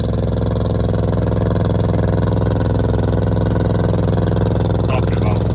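Loud engine close by at a winter canal bank, likely a passing boat, droning steadily and evenly throughout.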